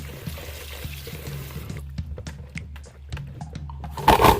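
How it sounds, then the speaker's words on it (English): Elderberries being rinsed under running water in a colander, a close splashing and pattering flow with intermittent drips, getting louder at the end. "now that we've picked out the green ones, let's give them a good rinse"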